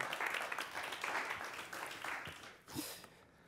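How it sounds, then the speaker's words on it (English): A conference audience at a bank's corporate learning event applauds a speaker, steady clapping that swells and then fades out, heard at a moderate distance. "please help me give a warm applause to Werner Schouten."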